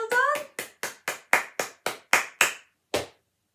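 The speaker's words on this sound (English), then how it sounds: "Give yourselves a big clap." Children at a storytime session clap along in a quick, even rhythm of about nine sharp claps, close and fairly loud, with a brief voice at the start.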